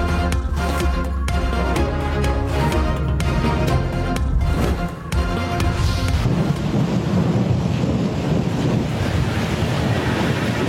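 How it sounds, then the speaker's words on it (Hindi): Heavy downpour with strong wind pounding during a violent storm in Islamabad, a loud, continuous dense roar with gusting surges and rumbling low crashes, no voices. "मूसलाधार बारिश और जालाबारी।"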